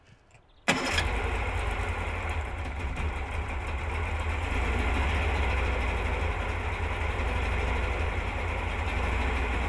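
A Yamaha 40 6H4 outboard motor starts abruptly after a quiet moment and then runs steadily, a loud continuous engine drone that builds slightly as hand throttle is given.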